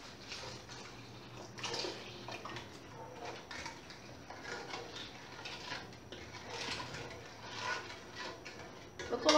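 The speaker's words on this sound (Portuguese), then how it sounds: "Aqui eu abri 1 litro de leite. Eu vou colocar metade mais ou menos." About half a liter of milk is poured into a pot of sugar for rice pudding. The pour is a faint, steady, splashing stream that lasts about nine seconds, heard alone.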